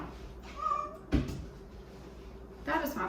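A cat on a kitchen counter gives a short, close meow, followed by a sharp thump as it moves or jumps, with a second brief cry near the end over quiet room noise.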